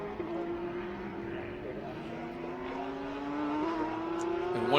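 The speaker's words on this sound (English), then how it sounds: "there's a unique sound out of that turbo V8 that they've had from the get-go" Turbo V8 GT race car engine at a Blancpain GT World Challenge America race at COTA, a steady rising engine drone with harmonic tones climbing as it accelerates, growing slightly louder toward the end, heard under broadcast commentary.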